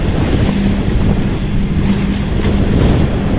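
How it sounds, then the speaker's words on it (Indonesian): Strong wind roars across the microphone and big waves rush and break at sea in the Sunda Strait, a loud, constant wash with no letup. "Ombaknya gede teman-teman. Waduh, nah anginnya kenceng banget deh."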